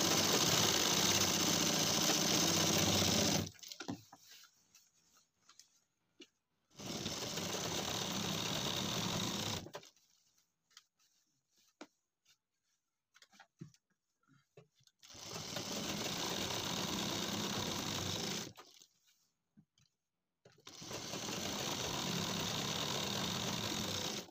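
A sewing machine stitches a pajama pocket in four separate bursts of steady, close mechanical whirring, with quiet pauses between them where a voice talks briefly.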